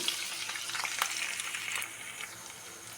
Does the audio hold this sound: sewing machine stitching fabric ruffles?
no